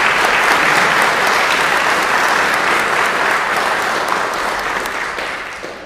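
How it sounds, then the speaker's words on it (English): A civic audience at a city's State of the City event applauds award winners with loud, dense, sustained clapping that holds steady and begins to fade toward the end. "Let's give our award winners another round of applause."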